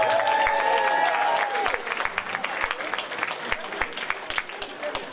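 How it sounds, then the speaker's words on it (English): Applause from diners at a VFW post's holiday dinner, beginning under tones and a brief voice, then settling into scattered, uneven clapping from a modest crowd with individual hand claps standing out. "Round of applause for Officer Nicole."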